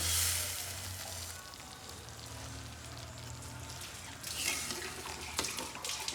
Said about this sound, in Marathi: आता आपल्याला जेवढी भाजी पाहिजे तेवढ्या ह्यात पाणी घालायचं आपण